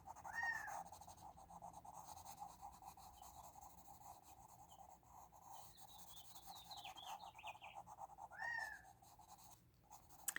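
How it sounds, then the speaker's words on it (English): A Gambel's quail gives a couple of short, rising calls at the start and again near the end, faint over a steady scratching, rubbing noise of colored pencils close by. "If you hear that bird, that's a gamble quail."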